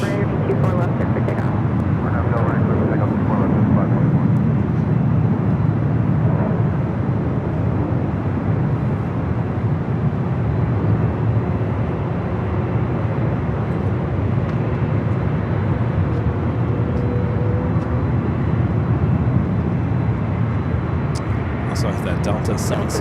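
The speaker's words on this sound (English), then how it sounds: "JetBlue, flight 524 heading to JFK. A321 Neo long range." A JetBlue Airbus A321neo long-range jet airliner roars at LAX, a loud sustained engine rush lasting throughout with slight swells, and a voice talks over part of it.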